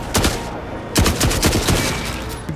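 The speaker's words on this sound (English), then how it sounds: "The gunshots echoed around." Gunfire crackles in quick bursts of several shots, each one ringing out loud and echoing around before the next volley.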